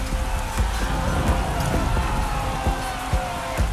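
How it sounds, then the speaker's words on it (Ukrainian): Heavy nighttime downpour, a steady dense wash of rain with scattered louder drops and splashes striking nearby surfaces, continuous and close throughout. "Вночі була злива,"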